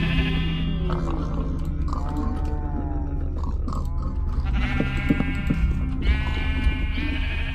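Sheep bleat repeatedly in a pen in the video game Minecraft, with several wavering, nasal calls in a row over a steady background hum, close and fairly loud.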